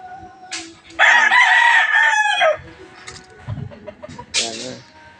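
A gamefowl rooster bred for cockfighting crows loudly and close by in one long, strained call, with shorter clucks and bird calls before and after it on a farm.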